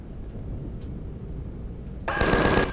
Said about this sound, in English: Oh yeah, and they're shooting at me.